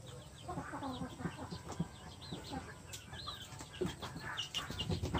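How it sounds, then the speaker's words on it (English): Island Red hens cluck and murmur continuously nearby, with overlapping soft clucks and occasional higher squawks. "So this is the hen"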